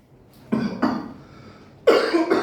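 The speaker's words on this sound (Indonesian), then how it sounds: "saya batuk-batuk nih" A person coughs three times, two close together and a louder one after a pause, with a faint breathy sound between.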